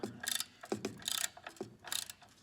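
A hand ratchet tightens bolts in a crisscross pattern during a clutch replacement, giving several close bursts of quick clicking separated by short pauses, with no voices.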